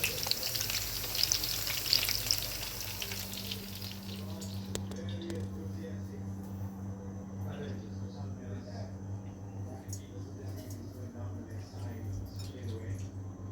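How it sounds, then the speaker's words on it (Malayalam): Fish roe frying in hot oil in a pan, prepared as a roast, gives a steady close sizzle and crackle, loudest in the opening seconds and then settling into a softer continuous frying hiss with faint stirring. "ഇനി ഇതിപ്പോൾ ഫ്രൈ ആയി വരട്ടെ"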